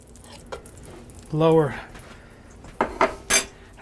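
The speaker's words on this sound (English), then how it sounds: "I cleaned my skillet, and I'm going to put in there now some clarified butter" Clarified butter is spooned into a cleaned skillet: a few sharp metallic clinks of spoon on pan near the end, after a brief voice in the middle, against a quiet background.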